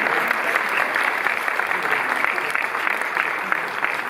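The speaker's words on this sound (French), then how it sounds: "Et on applaudit Bouix, qui est le partenaire d'Annie Dupéré." A cinema audience in the Cinémathèque theatre in Paris applauds a film's actor at a screening presentation, loud, sustained clapping from a full hall that continues evenly throughout.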